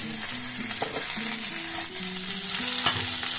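Chillies and black cumin frying in oil in a pan, a continuous close sizzle and crackle with occasional light stirring, loud and steady with no talk.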